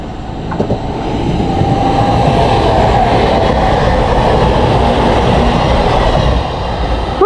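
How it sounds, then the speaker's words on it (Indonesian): A train in Japan rumbles past close by, a steady loud roar of wheels on rails that swells and holds for several seconds before easing off. "Nah ini keretanya lewat ya bentar lagi nih."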